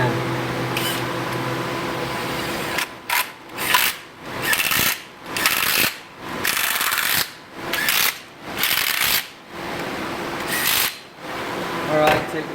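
A power driver runs in the water pump bolts on a 2012 Dodge Ram 1500 with a 4.7L engine, giving about eight short, loud bursts in a regular stop-start rhythm after a brief lower hum.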